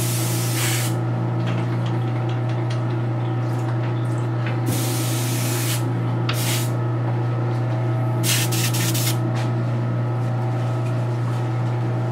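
Rust-Oleum spray paint hisses over figure bases in several short bursts, each one a sharp near spray lasting about a second, set over a constant low electrical hum.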